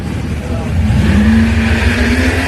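Drag racing car on a single pass, its engine holding a loud, steady roar that climbs in pitch as it accelerates away.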